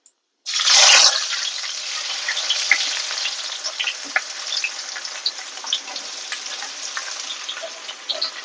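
Onions and green chillies hit hot oil with mustard seeds for a prawn thokku, giving a loud burst of sizzling that settles into steady close frying with small pops and crackles throughout.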